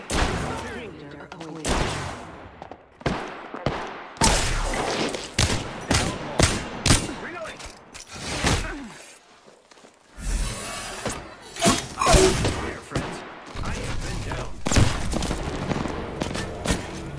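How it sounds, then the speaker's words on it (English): Rapid bursts of gunfire from an Apex Legends match crackle in dense volleys with sharp impacts and brief lulls, loud and close, while a player talks over the shooting. "They're shooting at me!"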